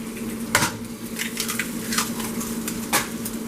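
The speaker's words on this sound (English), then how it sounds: "I will crack my eggs directly into the pan" Eggs are cracked against and into a buttered frying pan, giving a few sharp cracking taps and soft wet plops over a faint sizzle, close up.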